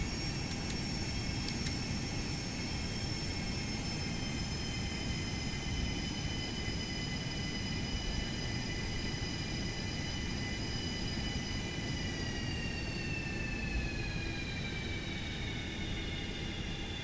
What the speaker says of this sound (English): APU spooling up.